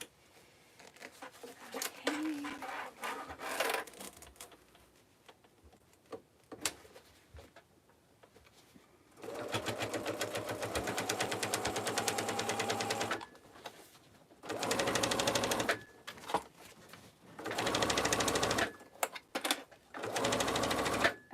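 A sewing machine bastes a pocket and webbing onto a tote bag in several bursts of steady stitching, separated by pauses and small handling noises, recorded close.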